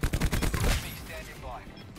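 Rapid gunfire bursts in Call of Duty Black Ops 4 from a KN-57 assault rifle, loud and close in the first second, then fading into a softer in-game tail with faint background noise.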